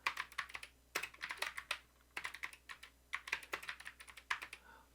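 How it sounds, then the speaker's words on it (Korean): Close computer keyboard typing in quick bursts of clattering keystrokes with short pauses, including sharper single presses like the Enter key, with no voices. "그래서 엔터를 누르고요"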